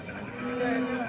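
A single low, drawn-out moo from a Haryana dairy cow, close by and fairly clear, lasting about a second.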